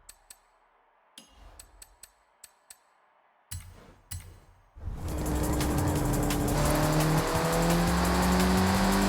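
Scattered light clicks come first, then a racing-game car engine on a night street race bursts in and revs hard, its tone rising and holding loud and close for the last few seconds.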